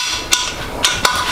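A torque wrench clicks three times in quick succession, sharp and close, while tightening the main bearing bolts on an engine short block. Faint shop hum sits underneath.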